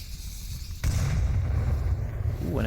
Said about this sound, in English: Ooh, and a nice nade check there on the objective.